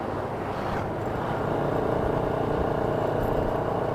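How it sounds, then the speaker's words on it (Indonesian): A 2010 Scorpio motorcycle with a 50 oversize bore runs while being ridden on a road, giving a continuous low engine drone with wind rush, steady and close throughout. "Ini motor saya, motor Scorpio 2010, oversize 50."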